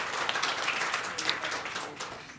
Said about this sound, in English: a round of applause for both speakers there